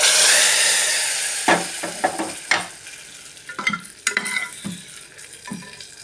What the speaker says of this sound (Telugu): ఇప్పుడు తాలింపుని పప్పులోకి ట్రాన్స్ఫర్ చేసుకోవడం.